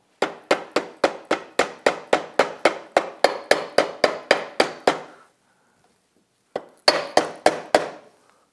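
A cup driver is hammered to seat a front wheel bearing on a 2012 Honda Rancher TRX420 ATV. About seventeen sharp, evenly spaced metallic blows ring out, then a pause, then four more, close and loud.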